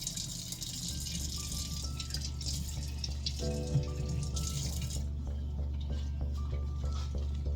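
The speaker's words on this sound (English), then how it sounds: "then we're going to do 1/4 cup of water." Water runs from a kitchen tap for cupcake batter, a steady splashing faucet stream with drips, close and alone, ending abruptly partway through.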